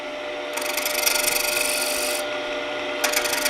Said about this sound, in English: Simply rotate the lathe, start with a bowl gouge.